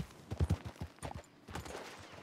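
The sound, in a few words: gunshots in the video game Red Dead Redemption 2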